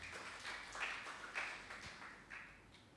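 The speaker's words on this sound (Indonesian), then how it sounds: "Tepuk tangan bagi Allah kita." A church congregation claps together during a worship service, producing a steady wash of applause with a few louder swells, moderately close and without talk over it.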